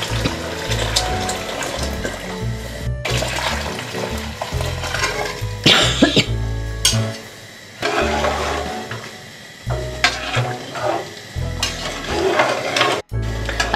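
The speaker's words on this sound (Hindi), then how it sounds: "अब इस स्टेज पे हमने जो यखनी बनाई थी वो इसमें ऐड कर रहे हैं" Mutton bone stock (yakhni) poured into bones frying in masala for a paya-style bone curry, a loud continuous sizzle and bubbling with stirring scrapes that rises and drops in bursts.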